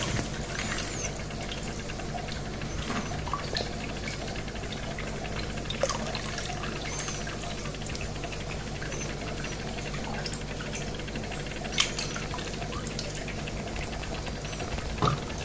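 Water pours and trickles continuously out of an aquarium tub holding blue-eyed longfin L144 pleco fry as the tub is emptied. The splashing is steady throughout, with a few small louder spatters.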